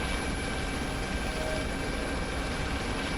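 A helicopter in the military simulation game Arma 3 drones steadily with a constant rotor and engine roar, close and even throughout, with no voices.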